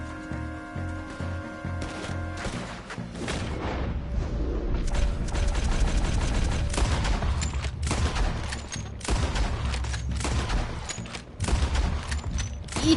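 Rapid gunfire in Red Dead Redemption 2, dense volleys of sharp shots and clattering mechanical gun sounds over a steady loud game backdrop, continuous throughout.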